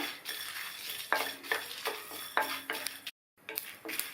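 Dry sesame seeds and curry leaves being stirred and tossed in a pan while dry roasting, with a steady scraping rustle and light crackle, a few louder clinks of a utensil, and a brief pause.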